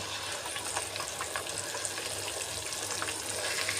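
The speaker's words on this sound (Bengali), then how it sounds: "বাকি যে পেঁয়াজটা আছে তার ভিতরে আমি আগে থেকে যে ব্লেন্ডারে করে যে মশলাটা রেডি করে নিয়েছি ওটা দিয়ে দেব" Blended spice paste fries with onions in a pan while cooking hilsa pulao, making a soft, steady sizzle with light crackles and faint stirring, fairly quiet and without voices.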